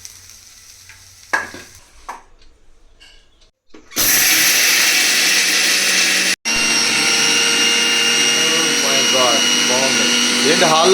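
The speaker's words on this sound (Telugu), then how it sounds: "ఇప్పుడు ఇవి కొంచెం చల్లారిన తర్వాత మనం మిక్సీ పట్టేసుకుందాం." A mixer grinder grinds fried ingredients into powder, a loud, sustained whirring that starts abruptly after quieter kitchen sounds, briefly stops, then resumes steadily.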